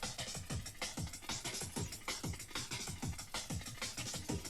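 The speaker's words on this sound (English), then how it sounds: "So these are two different break beats." Breakbeat drum samples in a drum and bass track, a fast, busy pattern of punchy kicks and crisp snares repeating steadily throughout, loud and alone with no voices.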